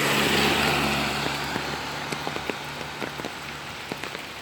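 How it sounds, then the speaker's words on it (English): A car rushes past on a wet road in steady rain, its loud broad hiss swelling early and fading, while raindrops tap nearby throughout. "Another car's coming by."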